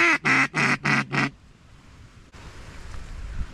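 Five quick, loud, nasal duck quacks ring out in a steady burst over a flooded corn field, then fade to faint outdoor ambience and soft water noise.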